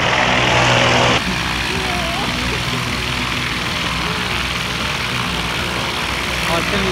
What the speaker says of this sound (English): You feel the prop blast blow out of here?